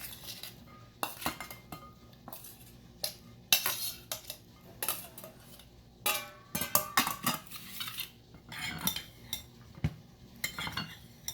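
A metal spoon clinks and scrapes in a bowl while boiled chickpeas and potatoes are mixed for chana chaat, producing irregular close tapping and clattering strokes with no talk.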